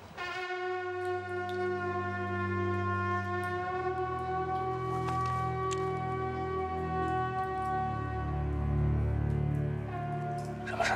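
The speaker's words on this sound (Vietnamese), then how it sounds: "Đây là tiếng sừng truyền thanh của chúng tôi," A horn signal carries from mountain to mountain as one long, sustained, droning blast with steady pitch, heard at a distance under faint ambient noise, with no talking.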